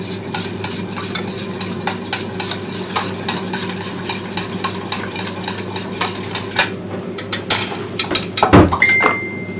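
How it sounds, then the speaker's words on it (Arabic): Yeast and milk are stirred together for qatayef batter, a spoon scraping and clinking repeatedly against a bowl in quick, close rhythmic strokes, with a louder clatter near the end. "هتديهم تقليبة."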